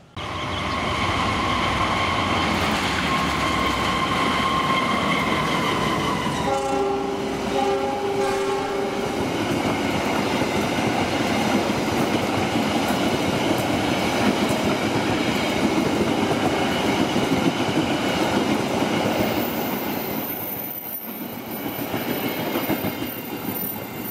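An Indonesian passenger train rumbles steadily along the rails through a large curve at Cikarang, loud and close, with a horn sounding midway and a high squeal of wheels near the end.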